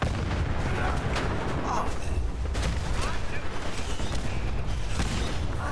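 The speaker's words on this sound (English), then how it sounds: "That's a lot of explosions." Repeated booming explosions and bursts of gunfire from a Fallout 4 battle with super mutants, sharp impacts scattered over a dense, noisy rumble; loud and continuous with several distinct blasts.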